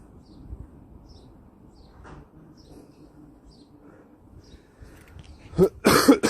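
A person coughs in a quiet room: a couple of sharp, close coughs burst out near the end after a long stretch of faint background hush.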